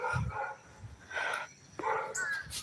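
A large dog barks and whines in short, uneven bursts at moderate distance, several calls spread across a couple of seconds over faint background noise.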